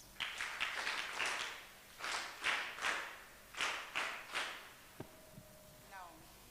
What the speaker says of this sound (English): can we give him 3 hearty claps?